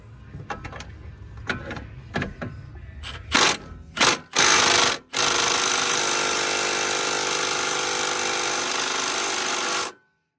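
An impact gun works on a front strut nut of a 2004 Infiniti G35, first in a few short hammering bursts, then in one long, loud, continuous rattling run of about five seconds before it stops.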